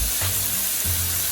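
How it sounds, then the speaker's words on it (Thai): Oil and garlic sizzle while frying in a pan, a short, steady, close hiss with a few low stirring knocks and no talk. "ผัดน้ำมัน นิดนึงใส่กระเทียมใส่น้ำมัน"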